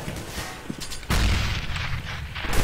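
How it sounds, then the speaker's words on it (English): A grenade detonates in Counter-Strike on the Mirage map: a sudden heavy boom with a rumbling tail that carries on for over a second, following some quieter gunfire and game noise. "Grenade."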